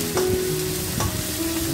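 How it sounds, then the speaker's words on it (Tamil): Finely chopped onions with salt sautéing in a pan for wheat rava kichadi, giving a steady close sizzle with scraping stir strokes throughout, no talking. "பொடியாக நறுக்குன வெங்காயத்தை சேர்த்து அந்த வெங்காயம் வதங்கிறதுக்கு உப்பு சேர்த்து நல்லா"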